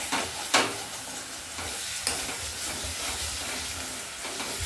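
Masala with yogurt, sugar and cashew paste is stir-fried in oil and starts catching on the pan bottom, making a continuous hissing sizzle broken by a few sharp scrapes of the spoon, close up, with no voices.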